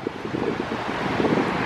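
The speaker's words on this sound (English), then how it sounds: "It's really windy today." Strong wind at a beach buffets the microphone in a steady low roar, with a faint wash that could be surf in the background.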